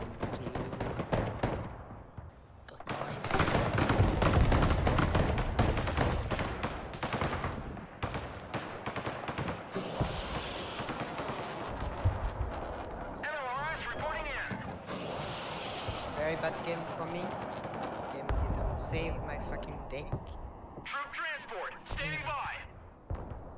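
Heavy booming salvos from HIMARS rocket artillery in the wargame Broken Arrow, rumbling and loud, with repeated launches and blasts running under players talking.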